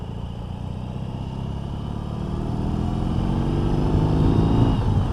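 A BMW R18 motorcycle cruising at highway speed on a 90 km/h road, with a steady low engine drone and rushing wind that builds gradually louder throughout.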